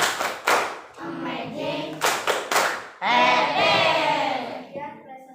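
Classroom clapping after a group presentation of a miniature mosque model, several bursts of sharp hand claps from a small group, broken by short talk and a spoken exclamation.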